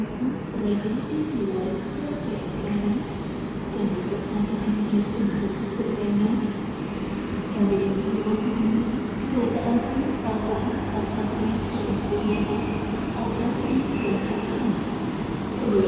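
Economy-class passenger train on the Jakarta to Jogja route, a steady rumble of the carriage rolling along the rails lasting throughout, with people talking over it.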